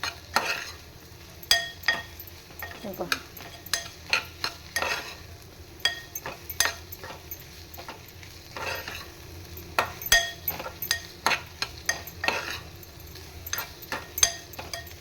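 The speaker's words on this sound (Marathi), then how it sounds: "कांदा पण नरम होतो आहे आणि त्यात ही आलं लसणाची पेस्ट पण छान परतवून घेतली आहे" Onion and ginger-garlic paste sautéing in a pan, with a soft steady sizzle under repeated clinks and scrapes of a spoon stirring against the metal, close and continuous.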